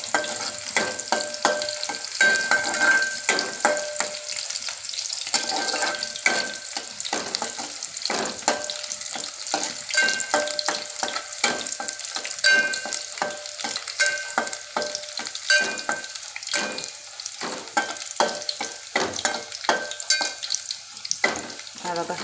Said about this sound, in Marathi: हा बघा लसूण आपला भाजला आलेला आहे